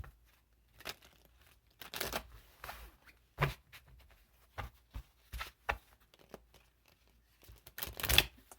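Tarot cards being shuffled by hand during a reading, heard as scattered, quiet bursts of riffling and crinkling with gaps between them, a louder flurry near the end.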